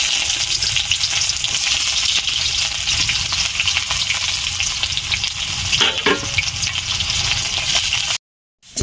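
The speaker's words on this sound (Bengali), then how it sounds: "এখন আমি পেঁয়াজটা দিয়ে দেব" Chopped onions sizzle steadily in hot oil in a pan, added after whole garam masala and cumin were fried, with a clear scrape of stirring near the end before the sound cuts out abruptly.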